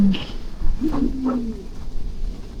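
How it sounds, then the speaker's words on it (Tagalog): Pigeons coo nearby: a few soft, throaty, rolling coos in quick succession, heard alone against faint background noise. "Meron silang kalapati dun."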